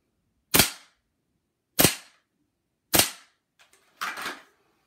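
Four sharp pistol trigger clicks during dry fire training, spaced roughly a second apart, each a crisp close snap with a short ringing tail, the last one doubled.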